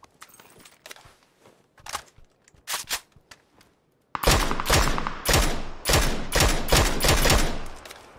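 SKS rifle gunfire in the video game PUBG: sparse single shots and clicks at first, then a loud, dense run of rapid overlapping bursts that keeps going to the end, with no voices.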